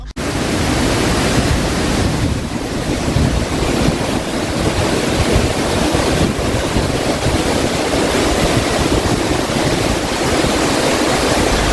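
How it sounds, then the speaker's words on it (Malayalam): Thooval waterfall pours down from a hilltop in dense, roaring white noise, loud and unbroken throughout with no voices. "മലമുകളിൽ നിന്ന് പാൽപ്പത പോലെ പതിക്കുന്ന തൂവൽ വെള്ളച്ചാട്ടം"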